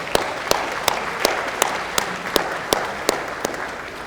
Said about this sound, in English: A big round of applause for all of our sponsors.